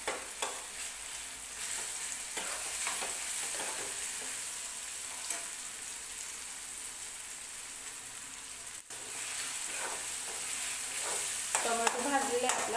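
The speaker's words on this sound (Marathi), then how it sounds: "अजून एखाद मिनिटभर टोमॅटो भाजला" Tomato sizzles in a hot pan for a chicken recipe, a steady frying hiss with scraping stirs and occasional louder crackles. It is close and constant, with no talk.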